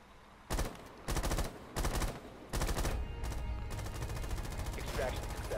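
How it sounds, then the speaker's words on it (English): Rainbow Six Siege gunfire comes in four short, loud automatic bursts with gaps between them, then a continuous stretch of firing and game noise. Faint talk can be heard underneath. "that's just me shooting at him"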